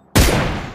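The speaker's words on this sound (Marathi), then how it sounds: "स्प्रे करना बंदूक ने" A sudden loud burst of gunfire in the mobile shooter game PUBG Mobile cuts in after a brief silence, a sharp blast that trails into sustained noisy rumble.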